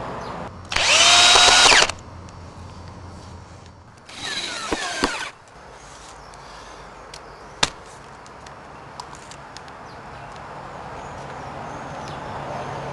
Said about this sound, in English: I personally like to use screws for attaching, fixing my boxing, as opposed to 3-inch nails and a hammer